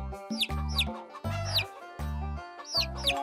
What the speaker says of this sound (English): Can you help me count how many chicks there are in the chicken coop?